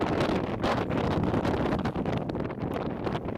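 Strong wind buffeting a microphone at a Sunday League football match, a steady loud rumbling roar with gusty surges throughout, no clear voices.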